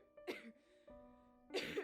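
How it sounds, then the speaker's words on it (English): A person coughs from dust inside a dark closet, two faint, close bursts of coughing separated by a short quiet gap. "I began coughing due to dust seemingly covering every part of the closet"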